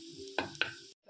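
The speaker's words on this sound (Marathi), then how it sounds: "लसूण छान फ्राय झालंय" Garlic frying gently over low heat in a pan, a brief soft sizzle with two sharp stirring clacks before it cuts off.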